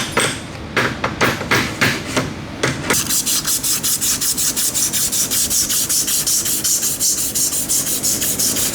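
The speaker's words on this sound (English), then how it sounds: "I like to take a little bit of sandpaper." Sandpaper rubbed by hand along the axle of a 1970s Margay racing kart: a few separate scratchy strokes at first, then a fast, even back-and-forth rasp, close and fairly loud, with no talking.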